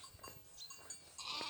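A flock of sheep grazing in the Sardinian countryside bleats faintly at a distance, scattered calls overlapping over quiet outdoor background noise, with no talking.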